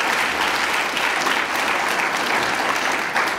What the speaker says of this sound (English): Let's give another round of applause for my speaker